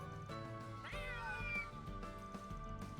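A cat meows once in Trails Through Daybreak 2, in the Center Marché district. The single rising, wavering call stands out clearly over steady background game music.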